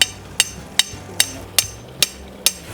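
A stake is hammered into the ground to mark the end of a wood fence line: seven sharp, evenly spaced blows land about every half second, close and distinct against quiet outdoor background.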